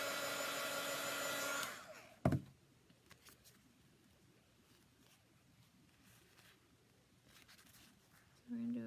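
A hair dryer blows over a freshly made chalk design, a loud steady whoosh that cuts off after a sharp click, followed by near silence with faint rustles, then a brief restart at the end.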